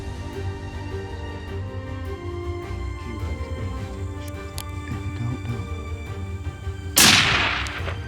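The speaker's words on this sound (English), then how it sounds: "I try to make the shot and I miss" A single loud hunting rifle shot cracks out near the end, sharp and close, after several seconds of steady outdoor background on a hunt in Namibia.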